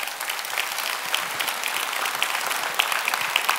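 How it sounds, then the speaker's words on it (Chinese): An audience at a company presentation claps in a dense, sustained round of applause, many hands at once at steady volume with no speech over it. "掌声吧。"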